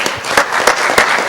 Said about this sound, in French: Je vous prie d'applaudir.